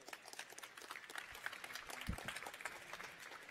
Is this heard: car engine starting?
no